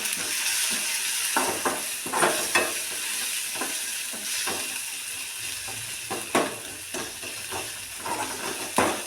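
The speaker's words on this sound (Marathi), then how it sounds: "मसाला तिखट घालून घेते एक चमचा आणि ह्याला परत परतून घ्यायचं" Cucumber sabzi with chili masala sizzles steadily in a pan while a spatula stirs and scrapes it in repeated short strokes, close and continuous with no talk.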